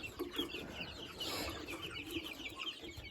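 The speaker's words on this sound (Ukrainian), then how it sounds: "А це наші півники на відкорм." Several young roosters being raised for meat cluck and chatter continuously, a busy overlapping flock sound at moderate distance on a village farm.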